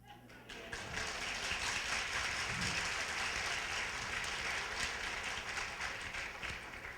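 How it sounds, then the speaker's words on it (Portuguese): An audience at a spiritist lecture in Franca breaks into applause, dense steady clapping that starts abruptly after a brief pause and continues evenly for several seconds, fairly distant and filling the hall. "Pode aplaudir, mulherada."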